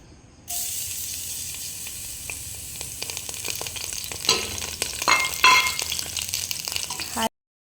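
Garlic dropped into hot cooking oil in a frying pan (kawali) for vegetable lumpia, a sudden loud sizzle that settles into steady crackling and hissing with stirring clicks, growing busier before it cuts off abruptly.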